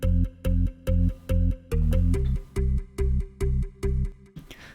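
Pulsing synth bass line from an NRG remix, played with its full low end and no EQ cut: repeated heavy, fat bass stabs in a steady rhythm, loud and alone, ending with a short fading tail.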